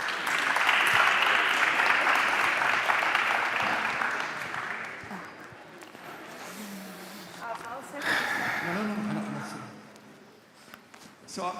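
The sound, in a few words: audience applause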